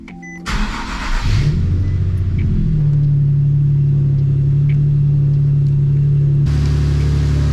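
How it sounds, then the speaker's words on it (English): A Nissan 370Z starts on a snowy day with a sharp crank and catch, a brief rev, then settles into a loud, steady, close idle with a constant low drone before a final rise in pitch. "start the car, put it on full heat, and let all this stuff just idle through"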